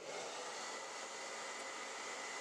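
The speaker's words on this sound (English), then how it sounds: "use that hair dryer to blow it around a little bit more" A steady, broadband rush of air from a hair dryer blowing resin around continuously at close range, with no talking.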